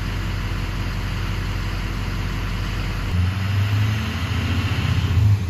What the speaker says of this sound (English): I can hear the exhaust.